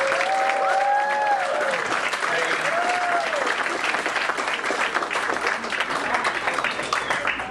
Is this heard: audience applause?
yes